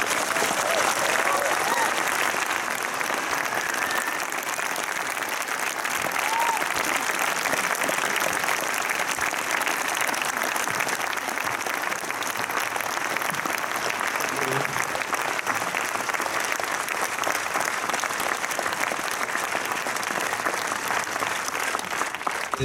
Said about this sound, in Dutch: Mag ik een daverend applaus voor de regisseur Tim Wieland.